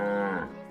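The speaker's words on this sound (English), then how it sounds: "A big animal was looking at us. I don't like the big animal. There's nothing to be scared of. It's all right. It's only a cow" A single cow moos once in a children's cartoon set on a farm lane, a short, close, loud low moo that fades quickly.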